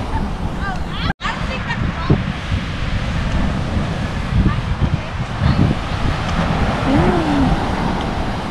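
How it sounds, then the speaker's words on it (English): Ocean surf at a Florida beach under a yellow flag, with people fishing offshore, washes steadily with broad wind rumble against the microphone and faint voices in the background, broken by one brief dropout. "I got some waves,"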